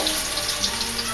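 Potato latkes frying in a quarter inch of hot Wesson oil in a cast iron skillet, a dense, steady crackling hiss close by with no talk over it.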